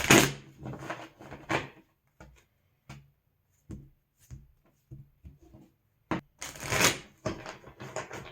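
Pokemon trading cards being shuffled by hand, bursts of crisp riffling and flicking separated by quiet pauses and scattered light taps, close to the listener with no talk.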